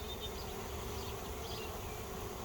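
Honey bees buzzing in a bee yard, a dense, steady drone from many insects close by, constant and unbroken with no voices.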